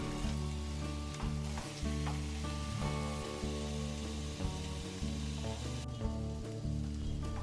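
Paneer frying in a pan gives a steady, close sizzle that runs the whole time beneath loud background music, with occasional small crackles.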